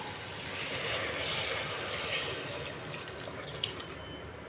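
Water pours steadily into a cooking pot for a vegetarian yam biryani, a continuous broadband rush that is close and moderately loud, with a few small splashy spikes toward the end and no voices.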